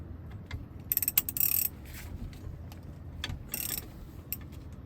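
Socket ratchet with a 1 1/16 socket loosening a nut at the ignition switch and steering column of a 1973 VW Beetle: bursts of quick metallic clicking, close and fairly loud, in two main runs over a low background hum.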